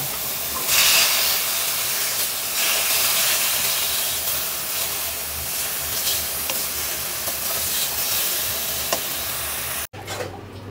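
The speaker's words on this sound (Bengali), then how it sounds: "গরুর যে তেল আছে ওইটা আগে ভাজবো" Fat from Qurbani beef frying in a pan gives off a loud, steady hiss and sizzle that runs nearly unbroken for about ten seconds before cutting off abruptly, with no talking.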